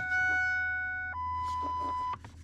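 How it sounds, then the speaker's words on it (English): Key-on warning chime from a 1999–2007 Ford Super Duty truck cab: two steady electronic tones, the first lasting about a second and the second held a bit longer, close and loud, with no talking. "We're going to turn the key on, wait for the beeping to go away."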